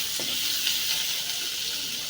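Red onions sauté in a hot pan, making a steady, fairly loud hiss and crackle that stays even and unbroken, with no voices over it.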